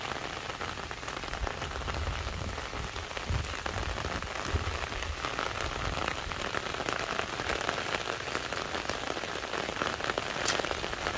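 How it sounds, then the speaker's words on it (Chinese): Steady rain falls across an orchard of young fruit trees and grapevines, a dense, even patter of drops on leaves and ground with no voices. "今天要下雨"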